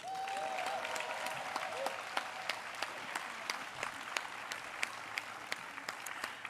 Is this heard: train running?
no